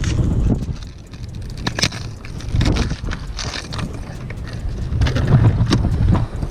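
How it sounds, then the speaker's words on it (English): Strong wind buffets the microphone aboard a bass fishing boat out on open water, gusting in loud rumbling surges with rattles and knocks from the boat, and no talking. "It is crazy windy out here right now"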